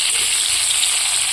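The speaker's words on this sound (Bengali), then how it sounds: "তো আমটাকে আমি ভালো করে ভেজে নেব।" Ripe mango pieces frying in a pan, a loud steady sizzle with continuous hiss and no break.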